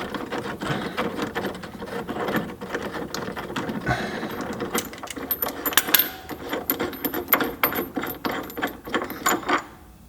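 A bolt on a car's dogbone mount being loosened with a ratchet, giving a close, rapid clicking and metallic rattling that grows busier and more uneven toward the end, with nobody speaking.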